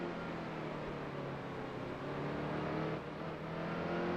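A race car engine in NASCAR Heat 2 holds a steady, loud, droning roar on the throttle at Martinsville, continuous throughout with no talking.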